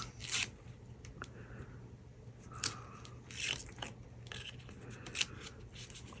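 Black foam tape having its backing peeled away while crafting a penguin Christmas card, heard as a few brief crackly tearing bursts spread over quiet room hum, close and fairly soft.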